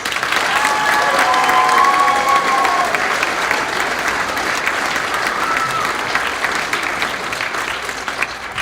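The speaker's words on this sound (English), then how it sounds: "Let's give them all a round of applause." Sustained audience applause at an eighth grade promotion and junior high awards night, dense crowd clapping filling the room with scattered voices and a faint cheer.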